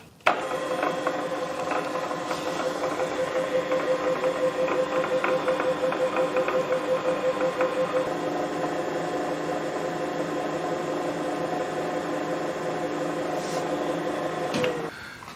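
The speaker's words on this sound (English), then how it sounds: "So I think we'll have a go at power tapping this and see how that works out." Lathe power tapping a thread into a workpiece for a tailstock tool rack: a steady mechanical whir and hum runs throughout, with a faint tone that drops away partway, ending in a brief clunk as it stops.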